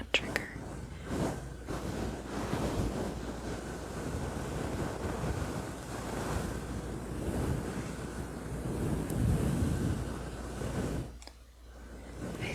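A fluffy windscreen microphone cover is scratched and rubbed close up in soft-spoken ASMR, producing a rushing, surf-like roar that swells and fades in uneven waves and drops briefly near the end.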